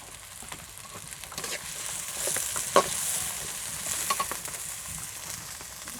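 Green chili, onion and garlic fry in oil in a pan on a clay stove, a steady broadband sizzle with a few crackling pops and soft stirring scrapes throughout.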